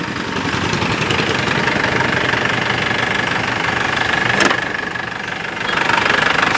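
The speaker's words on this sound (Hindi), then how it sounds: "इसका ये इंजन है बलेरो महिंद्रा DI," A freshly rebuilt Mahindra Bolero DI diesel engine idles in a modified open jeep, with a steady, close knocking chatter and constant vibration throughout and no voices.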